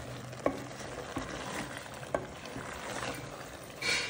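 Arvi masala gets stirred in a frying pan as a soft, steady sizzle runs underneath, broken by a few sharp scrapes and taps of the spoon against the pan.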